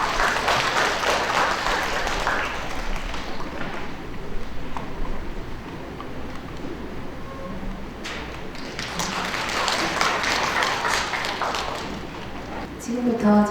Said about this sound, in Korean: 연단에 올라가는 동안 박수 한번 쳐주시기 바랍니다.